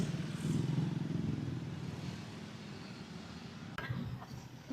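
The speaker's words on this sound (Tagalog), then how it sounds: "Uy, may sa motor." A motorcycle engine drones past faintly in the background on a street in Baguio City, with a brief clatter near the end. Distant traffic noise continues throughout.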